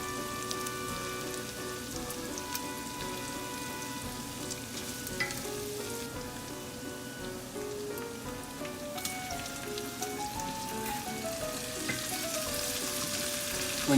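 Onions and sauerkraut fry in a pot, giving a steady soft sizzle and crackle throughout with faint scattered pops, no voices over it.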